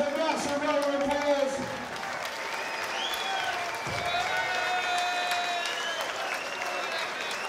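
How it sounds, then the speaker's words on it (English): A crowd at a bare-knuckle boxing event applauds the fighters after the bout with loud, sustained clapping mixed with cheers and raised voices, strongest at the start and then holding steady. "Ladies and gentlemen, Ron Eric Donald, please give these warriors a massive round of applause."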